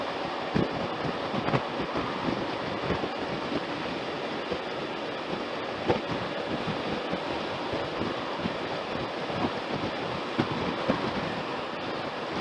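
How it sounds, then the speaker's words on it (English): Strong wind buffets and roars continuously, a dense rushing noise with occasional gusty thumps, no speech. "We have crosswinds."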